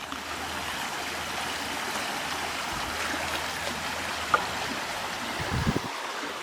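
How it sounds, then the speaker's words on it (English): Brook flowing through Bluebell Wood in Crewe, a soft continuous water rush with faint outdoor rustles and a couple of brief knocks or footsteps near the end. "You see the brook,"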